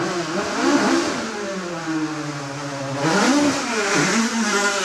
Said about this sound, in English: Little Ford Escort making a lot of noise.